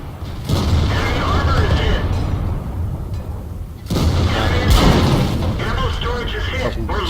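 A tank cannon firing in the World of Tanks video game on an AMX 50 120, heavy booming shots at about half a second and again near four seconds, each followed by a loud rumbling, mechanical tail.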